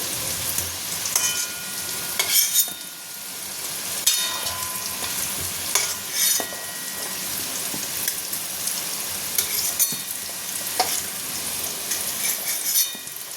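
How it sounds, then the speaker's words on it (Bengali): Potato pieces deep-frying in oil for a paneer biryani, a dense continuous sizzle like light rain with scattered crackles and occasional louder pops, close and steady throughout without voices. "ওখানে আলু ভাজা হচ্ছে"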